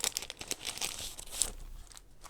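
A paper card envelope crinkles and tears open with quick, light rustles and crisp snaps, close by and fairly quiet.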